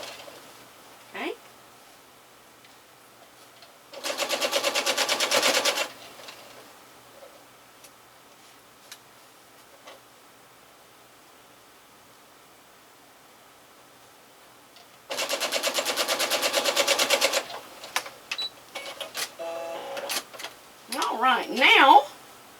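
Sewing machine stitching a quilt seam over pins: two bursts of steady, rapid needle clatter, each a couple of seconds long, separated by quiet handling, with soft speech near the end.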